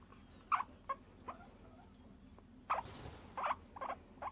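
A distressed guinea pig gives short, sharp squeaky chirps, a few spaced calls, then a quicker cluster of four or five near the end, close and fairly clear over a quiet background with no talk.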